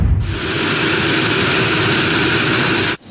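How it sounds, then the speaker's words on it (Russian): A Gulfstream 500 business jet lands with a steady, loud, broadband engine roar that holds for nearly three seconds and then drops off abruptly, with no voices. "Двухчасовой перелет и около 11 вечера самолет приземляется в Магнитогорске"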